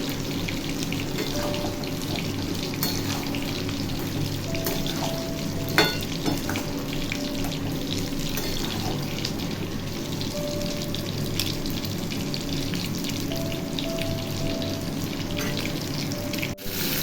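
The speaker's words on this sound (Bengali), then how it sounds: "এই দেখুন মাছগুলো আমার ভাজাই হয়ে গেছে" Continuous sizzling from a frying pan, steady and close, with occasional clinks and stirring scrapes and a faint hum underneath.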